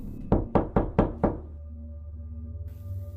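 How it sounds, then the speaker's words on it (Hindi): Five quick, evenly spaced knocks on a hotel room door, close and sharp, followed by a quiet low hum. "कुछ देर बाद हमारे रूम का दरवाज़ा नॉक हुआ।"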